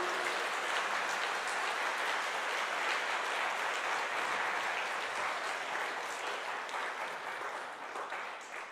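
A church congregation at a Sunday worship service applauds together, a broad, hissing wash of many hands clapping at once, steady and moderately distant, fading slightly toward the end.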